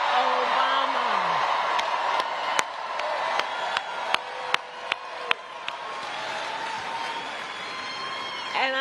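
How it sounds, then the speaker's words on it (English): A crowd at a Kamala Harris and Michelle Obama campaign rally applauds and cheers continuously, with a steady roar of clapping, a few sharp camera-like clicks and occasional whoops. "Can we please applaud my dear and incredible friend, the former First Lady, Michelle Obama."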